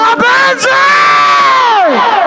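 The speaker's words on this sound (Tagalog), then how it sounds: "Isang hiyawan" A concert crowd at a live band show for a founding anniversary celebration in Bataraza, Palawan, lets out a loud, sustained collective shout and cheer that rises, holds, then trails off.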